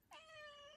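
A single clear cat meow, close and fairly loud, starting sharply and holding a steady tone before trailing off.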